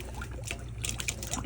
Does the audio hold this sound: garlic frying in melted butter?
no